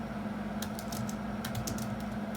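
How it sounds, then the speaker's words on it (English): Computer keyboard typing in short irregular bursts of quick keystrokes, close and fairly quiet over a steady low hum. "I'm not typing well today."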